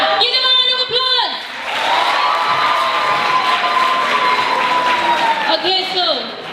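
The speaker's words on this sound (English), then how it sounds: "give them a round of applause!" A school roadshow audience at a language festival cheers, shouts and whoops with children's voices prominent, loud and sustained throughout, with crowd noise swelling at the start and end.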